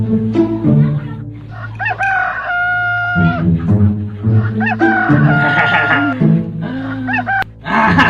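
A rooster crows loudly and close by, giving a few drawn-out strained calls. Other fowl cluck around it and a voice can be heard in the background.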